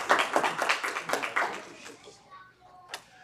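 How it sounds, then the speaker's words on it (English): A congregation at a Shabbat synagogue service claps in a brief burst of applause that thins out and fades within about two seconds, with a voice talking softly near the end. "So, round of applause."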